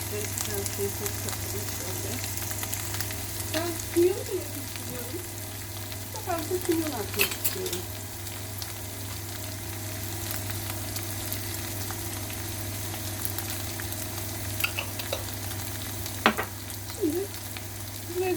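Stuffed-eggplant vegetable filling with black pepper and a spoonful of tomato paste sautéing in a pan, a steady close sizzle broken by occasional stirring scrapes and clinks.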